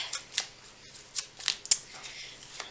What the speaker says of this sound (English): And as usual I'm just shuffling the cards.